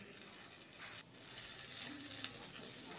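Chopped tomatoes frying in a pan, giving a steady, fairly quiet hiss and crackle of oil with no voices.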